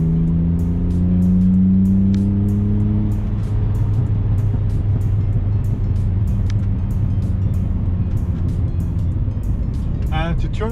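Tuned BMW E46 engine revving loudly and close, with a rising then steady drone and sharp crackling exhaust pops scattered throughout, and a brief voice near the end.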